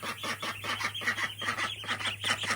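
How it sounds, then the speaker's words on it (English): A large flock of farm ducks quacks and honks continuously while being fed fresh food, a dense, overlapping chorus of close, loud calls. "But we just have so many ducks."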